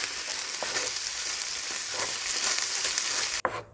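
Pasta sauce mixed into a hot pan for Indian-style red sauce chicken pasta, an even close sizzle with faint stirring scrapes, ending in a brief louder clatter and sudden drop to quiet.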